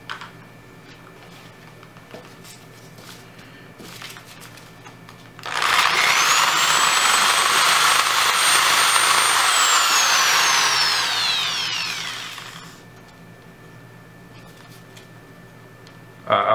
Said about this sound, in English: Okay, I got my drill,